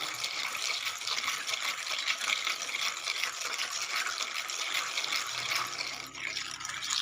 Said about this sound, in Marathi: त्याच्यात आपण थोडं पाणी ॲड करणार आहे आणि ते मिश्रण आपण चांगलं चमच्याने असं ढवळून घेणार आहे।